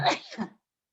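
A single sneeze bursts out loudly and close by, trailing off within about half a second into silence.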